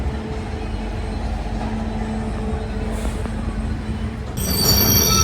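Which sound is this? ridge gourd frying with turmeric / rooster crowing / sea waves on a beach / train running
train running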